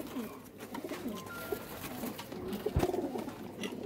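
Pigeons kept by a fancier in Gujranwala coo in low, rolling phrases, fairly near and moderately quiet, with scattered clicks, a sharp knock near the end and faint background murmur.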